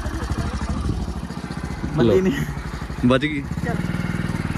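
A motorcycle engine runs steadily on a family road trip, a close, continuous low throbbing drone, while people talk briefly over it.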